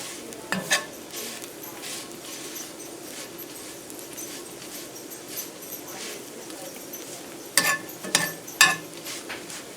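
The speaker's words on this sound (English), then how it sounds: "You can hear it when it hit there, sizzling." Cut pieces of Spam sizzling in a hot pan: a faint, steady frying hiss with a few sharper clatters of utensils stirring against the pan, close by.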